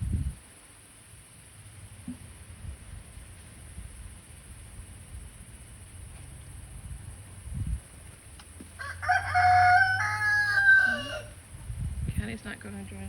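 A backyard rooster crows once, a loud, close, drawn-out cock-a-doodle-doo rising out of quiet yard ambience, with softer clucking and rustling around it.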